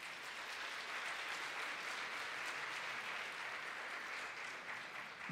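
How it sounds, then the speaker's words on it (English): An audience at a school district concert applauds a school board representative, giving steady, even clapping that holds for several seconds at a fairly distant, soft level. "Please give her a round of applause."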